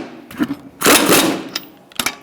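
Lug nuts on a 2012-2017 Hyundai Accent 1.6L front wheel tightened with a 21mm socket in a crisscross pattern: short, loud, whirring rattling bursts separated by brief pauses, close up with no talk.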